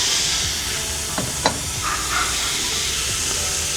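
Constant sizzle and hiss of pork frying in a pan, with a brief clank partway through and no voices.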